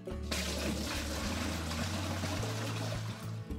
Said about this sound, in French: pour ce qui reste de pissenlit, on a juste à le verser dans notre cuve